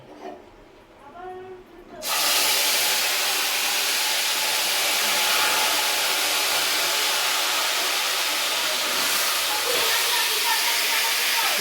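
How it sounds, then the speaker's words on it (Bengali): Marinated meat dropped into hot oil in a home kitchen sets off a sudden loud, broadband sizzle that starts after two seconds of quieter sounds and keeps going evenly with crackles throughout. "এবার অল্প অল্প করে আস্তে আস্তে দিয়ে আস্তে আস্তে মাংসগুলো দিয়ে দেবো"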